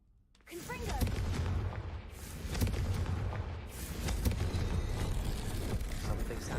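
A Confringo fire spell blasts in a video game, erupting suddenly into a loud, sustained, rumbling roar that keeps booming without pause.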